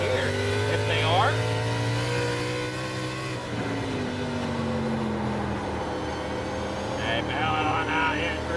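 Onboard race car engine during a short-track Xfinity Series race at Thompson, a loud droning whine with pitch sweeps as the driver shifts and lifts through a corner, with a commentator talking over it.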